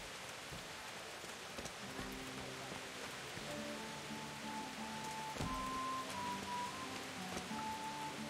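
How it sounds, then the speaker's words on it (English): Steady rain falls in the medieval role-playing game Kingdom Come: Deliverance, a continuous hiss that holds at an even level, with soft sustained musical tones running underneath. "It's been awfully rainy lately."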